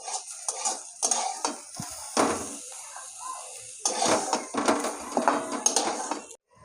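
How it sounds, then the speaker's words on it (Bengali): Fried brinjal lifted out of a pan with a metal utensil, giving a run of clinks and scrapes against the cookware, with quieter gaps between bursts. "বেগুনটা ভাজা হয়ে গেছে, বেগুনটাকে তুলে নেবো।"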